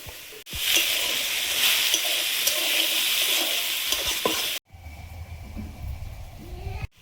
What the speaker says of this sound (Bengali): আলুটা ঢাকা দিয়ে একটু ভেজে নিয়েছি, এবার ভেন্ডি দেবো